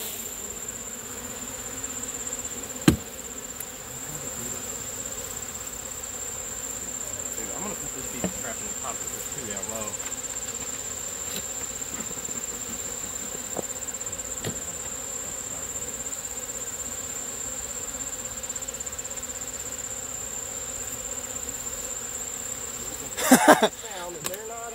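A steady, soft drone of many honey bees buzzing at an opened hive during an inspection, with a few faint clicks and a brief rustle near the end.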